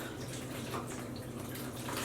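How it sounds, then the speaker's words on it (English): Water pours and trickles steadily as pre-soaked yarn is wrung out, a close, continuous splashing stream with no talk. "Mommy is wringing out the water from our pre-soaked yarn."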